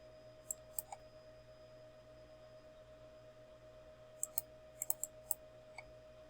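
Computer mouse clicks while editing image properties in an app builder, a few quick single and double clicks spaced out over a quiet background hum.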